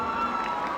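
A brief burst of crowd cheering and shouting, loud and lively, with no clear talk over it.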